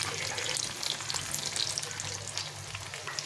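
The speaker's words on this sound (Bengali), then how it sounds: "একটু সময় দিয়ে ভাজতে হবে, হিটটা কমে দিয়ে আস্তে আস্তে করে ভেজে নিতে হবে" Banana flower peels fry slowly in oil over low heat, giving a steady, close, continuous sizzle and crackle with no pauses.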